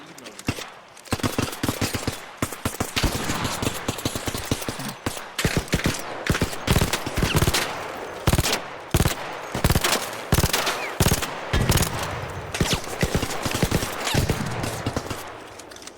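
Gunfire in the video game Arc Raiders, dense rapid bursts of shots cracking almost continuously for the whole stretch, loud and close, with voices talking over the shooting.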